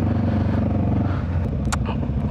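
Motorcycle engine running after earlier overheating trouble, a steady close low rumble with a rhythmic pulsing idle throughout, no talk.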